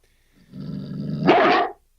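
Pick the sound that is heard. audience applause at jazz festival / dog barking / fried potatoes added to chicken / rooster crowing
dog barking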